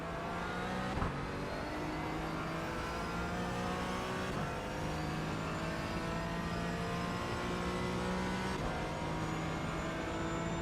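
A Mazda MX-5 race car engine in iRacing at Daytona drones at a steady high pitch, holding a continuous buzzing tone with slight rises and dips in revs and no break.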